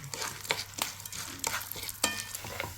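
Roasted gram (split chickpeas) frying in a pan with a soft sizzle, punctuated by a few scraping stirs of a spoon at irregular intervals.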